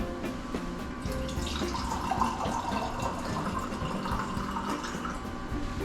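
Roughly a glass of water poured into a pressure cooker pot of keto soup, a steady splashing trickle that runs for about six seconds at moderate, close range with no talking.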